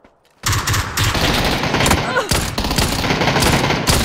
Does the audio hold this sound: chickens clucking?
no